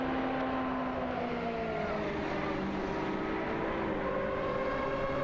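Engines of an Aston Martin AMR1 and a Porsche 962C long-tail whine in a racing video game, their tones rising and falling steadily under a constant engine roar.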